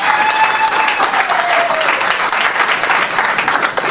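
Audience applauding at a ceremony, a loud, dense, steady wash of many hands clapping close by, with a faint whistle-like tone sliding through early on and no talk over it.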